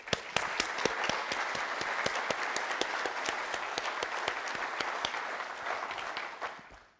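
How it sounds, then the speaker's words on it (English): Applause from a conference keynote audience, steady dense clapping from a large crowd throughout, fading at the very end. "A big round of applause."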